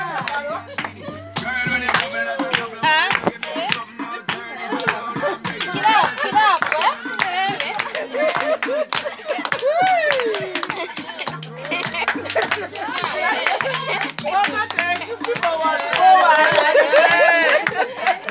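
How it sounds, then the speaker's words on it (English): Hands clapping at a birthday party during a comedian's act, rapid and fairly close, running steadily beneath crowd chatter, laughter and children's voices, with a voice calling out over the top. "Clap your hands."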